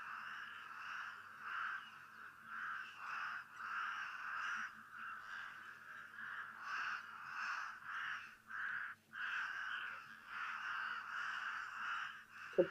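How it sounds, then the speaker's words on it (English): Cape crows give repeated harsh caws at a waterhole, a steady series of calls at moderate distance with brief pauses, carrying on throughout with no talk over them. "So, Cape crows, of course, can be in territorial groups, which may explain the consistent vocalizations."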